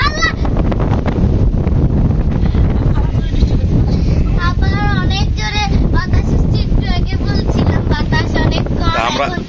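Strong gusting wind before rain in Feni buffets the microphone with a loud, steady roar that runs the whole stretch, while people talk over it.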